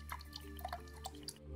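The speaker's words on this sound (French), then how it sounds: "On fait sortir l'eau qui est restée dedans." Leftover water drains out of ceramic filter candles in a handful of close, quiet drips and trickles over a low steady hum.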